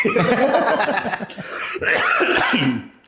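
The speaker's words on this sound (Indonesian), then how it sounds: "Tuh batuk ya" A person coughs several times in a rough, throaty burst, close up, mixed with a little chuckling or throat-clearing.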